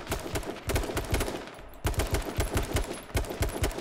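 Rapid automatic gunfire in the video game H1Z1 King of the Kill, a steady stream of fast rhythmic shots in several bursts with a short pause midway, fairly close and with no talk.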